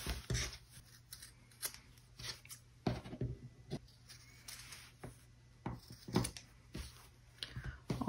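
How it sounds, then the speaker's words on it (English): Scissors trimming the rounded fabric edges of a doll sleeping bag, repeated crisp snips and rustling cloth in irregular bursts, close and quiet, with no talking. "I'm gonna round my edges and then trim them."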